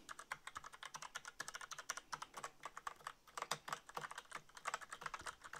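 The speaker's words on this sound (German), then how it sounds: "ModMic USB klappern mechanische Tastatur" Rapid clattering of a mechanical keyboard, picked up by a ModMic USB microphone: dense, uneven keystrokes close and steady throughout, with no voice.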